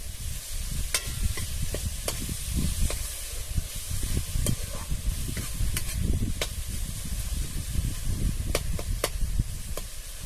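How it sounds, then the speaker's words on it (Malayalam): Tomatoes sautéing in a pan on a stove, a dense steady sizzle with sharp crackling pops spread irregularly throughout and a low rumble of flame beneath, close and loud. "ഇതിങ്ങനെ നല്ല വഴന്ന് വരുമ്പം അതിങ്ങനെ പൊട്ടിക്കോളും തക്കാളി"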